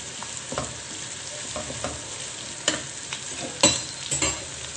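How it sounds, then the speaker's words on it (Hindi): Cabbage and carrots are stirred in a hot pan, a low sizzle broken by several distinct utensil scrapes and knocks, louder toward the end, with no talking. "बस इसको हल्का सा हम लोग मिक्स करेंगे"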